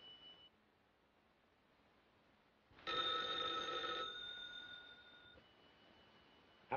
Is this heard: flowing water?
no